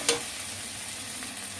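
Spices and chili powder stir-fried on low flame in a pan for a spinach (beto shak) dish: a steady, close sizzle with one sharp scrape of the stirring spoon near the start.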